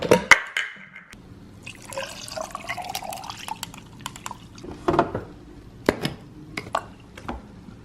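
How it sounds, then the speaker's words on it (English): Coffee being made at home: liquid pouring and dripping, with clinks of cups and utensils and small handling knocks scattered across a quiet room. "I am pretty tired, so I'm going to make myself a coffee."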